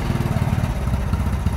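A Honda Wave Alpha motorcycle engine running steadily close by, with an even, low putter and a rapid rhythmic pulse throughout and no voices over it.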